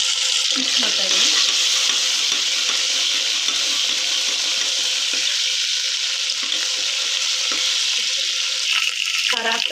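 Onion and ginger-garlic paste fry in a pan for mutton thele kaal sambar, giving a loud, continuous hissing sizzle with faint scrapes of stirring throughout and no speech.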